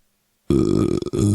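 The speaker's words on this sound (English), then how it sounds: "They get the sake burps." A single loud, close burp after drinking sake bursts out of silence, a long guttural croak with a brief break near its end.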